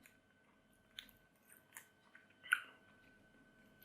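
A bitten snack, a KIZO or FAME branded product, is chewed close to the mic: a few faint, crisp crunches in uneven bursts with quiet gaps and no talking.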